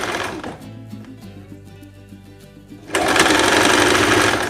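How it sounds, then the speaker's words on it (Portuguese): A sewing machine runs a straight seam on a dress, its steady mechanical whir close and continuous, starting softer and then becoming much louder and busier for the last second and a half, with no talking. "É a mesma coisa, vai passar uma costura reta e depois você faz o acabamento."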